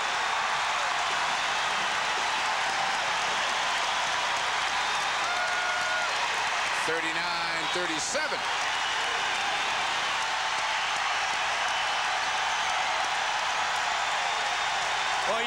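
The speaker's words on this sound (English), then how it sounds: "The crowd just badly wants to get into this" A 1991 UConn versus Villanova men's basketball arena crowd sustains a broad roar of applause and cheering after a three-pointer, and a voice briefly calls the score over it.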